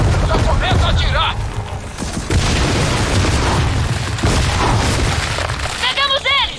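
Gears of War 4 combat erupts in heavy gunfire and booming explosions, loud and dense, with shouted voices and chirping effects breaking through over the barrage.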